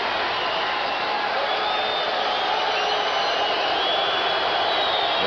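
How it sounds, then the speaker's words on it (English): A basketball stadium crowd cheers and roars in a dense, sustained wash of noise from many voices at an NBA game, steady and loud throughout. "The stadium crowd revs up."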